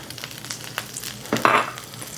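Shiitake mushrooms dropping into hot oil in a pan, starting with a few quiet crackles and then breaking into a louder burst of sizzling near the end.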